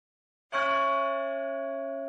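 A church bell on a snowy night strikes once. The clear, resonant tone rings out and hangs in a long, slowly fading hum with no other sound around it.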